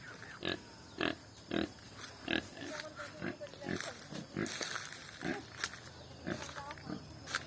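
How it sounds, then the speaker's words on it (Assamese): A large long-breed boar grunts in repeated short, deep bursts at a regular rhythm, fairly close, while a person talks over the sounds. "এইটো পাঠাটো ডাঙৰ হৈছে, দীঘল জাত।"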